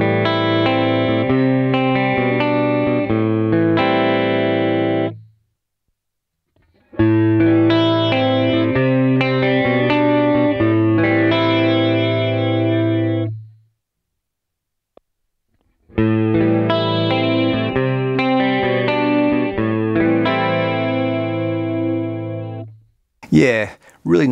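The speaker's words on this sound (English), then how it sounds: "My first chorus pedal was this Ibanez SC10, bought around 87 or 88." Electric guitar played through an Ibanez SC10 chorus pedal, shimmering chord phrases in three separate passages with short silences between, clear and close.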